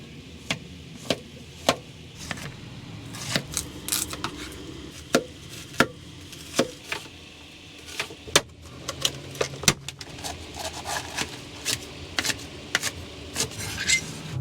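Knife chopping vegetables on a board inside a camper van, a new sharp kitchen knife cutting ingredients for a cheesesteak; irregular crisp chops, some in quick clusters, close and clear with faint background rumble and no talk.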